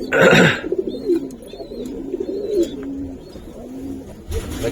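Soft, repeated cooing of Giribaz pigeons in a low rolling rhythm, with a brief louder rustle at the start and a burst of noise near the end.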